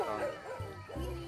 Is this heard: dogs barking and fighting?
yes